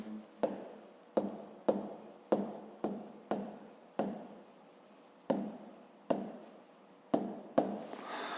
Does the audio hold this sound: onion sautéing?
no